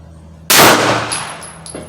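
A single loud, sharp pistol shot from a Springfield XD-M Elite at a target range, close by, followed by a fading echo and a faint high metallic ring.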